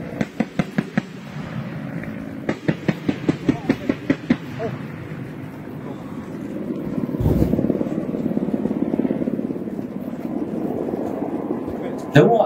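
Mi-35 military helicopter: bursts of rapid, evenly spaced thudding rotor beats, then a broad sustained rumble, with voices talking over the later part.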